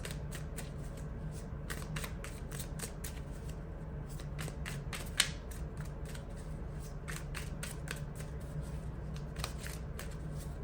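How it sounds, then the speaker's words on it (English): Oracle cards shuffled by hand during an intuitive reading, a steady run of crisp riffling and flicking bursts, close and fairly quiet, over a low background hum with no talk. "I'm not just throwing them, I'm shuffling them."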